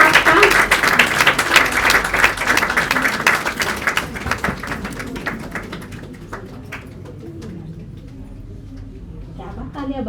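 A crowd at a Diwali celebration gathering applauds loudly, dense clapping filling the first few seconds before thinning and fading to scattered claps under murmuring voices.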